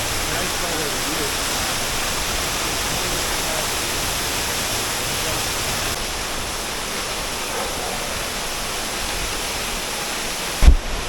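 The waterfall at Cascada Juan Curi in San Gil roars as a loud, steady broadband rush of falling water, unbroken throughout, with a brief thump near the end.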